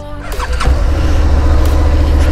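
A 2018 Suzuki SV650 motorcycle engine starts at the push of a button: a brief starter whir catches into a loud, steady, close-up low rumble at idle.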